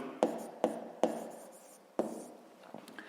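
A pen writes out a math problem on paper, with several distinct taps and short scratchy strokes spaced irregularly, close and quiet, with no talk.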